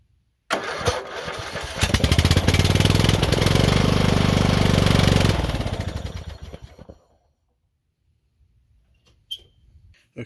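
A Poulan 38-inch lawn mower engine starts on fuel poured into the carburetor and runs loudly for several seconds, then sputters and dies from lack of fuel, leaving near silence with a few faint clicks.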